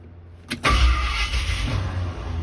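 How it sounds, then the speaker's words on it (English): A Torino's starter engages with a sharp clunk as its Bendix gear kicks back out, then a loud, rough whirring grinds on steadily, close by. "The Bendix, or the starter gear, kicked back out."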